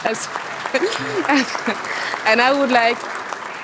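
Audience applause at a political event runs as a steady clapping wash beneath someone speaking over it.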